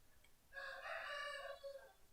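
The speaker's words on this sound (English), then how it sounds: "Those are my chickens, please excuse the noise in the background." A rooster crows once in the background, a single faint drawn-out cock-a-doodle-doo lasting about a second in an otherwise quiet room.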